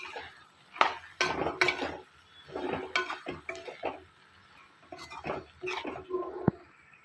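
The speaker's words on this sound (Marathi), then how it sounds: "मिक्स करून घ्यायचं आहे" Chopped kantola, the spiny gourd, is stirred in a metal pan as a spoon scrapes and clinks in irregular bursts, close and clear, with short pauses between strokes and no talk.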